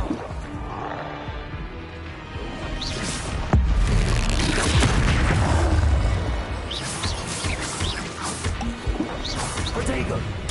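Spell effects from the video game Hogwarts Legacy, including an Expelliarmus disarming spell, crash and whoosh in a busy duel, with a loud impact burst partway through over constant battle noise and music.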